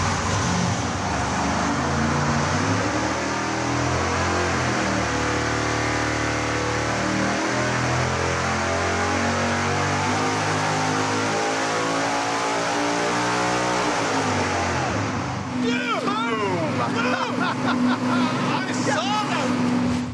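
A supercharged, nitrous-fed big-block Chevy engine screams at full power on a dyno, a loud sustained roar climbing in pitch before cutting off, followed by people talking over the lingering noise.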